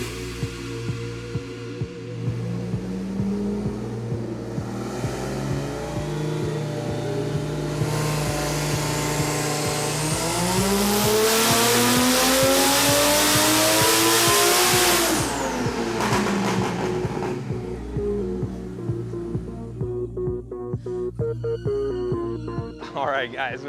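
A BMW-swapped 1949 Ford revs hard through a boosted dyno pull, the engine note climbing steadily to a loud peak before dropping away, with shifting harmonics and brief rattles afterward.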